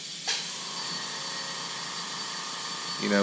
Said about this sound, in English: you're removing metal with a ball burr